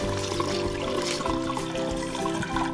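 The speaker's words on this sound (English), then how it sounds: "When the noodles are cooked, just drain them and rinse them in cold water to stop the cooking." Cooked chow mein noodles drained and rinsed under cold running water in a kitchen sink, a steady close rush of tap water pouring over them throughout with a few soft clunks.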